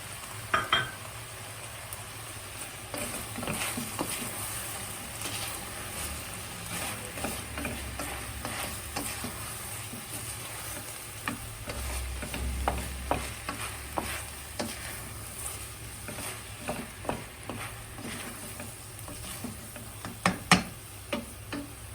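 Tomatoes are stirred into meat frying in a pan for a mushroom and kasar cheese kavurma, with a soft constant sizzle and frequent sharp ticks and scrapes of a utensil, and no one speaking.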